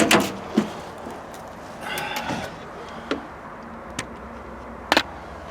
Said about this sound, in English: gotta open the door again